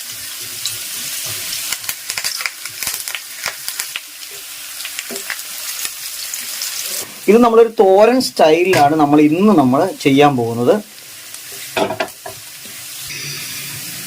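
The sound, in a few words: mustard seeds, onion, chilli, curry leaves spluttering in oil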